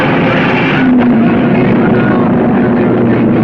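Race cars starting a 500-mile race roar together in a loud, steady, dense engine drone with a rushing, wind-like wash throughout.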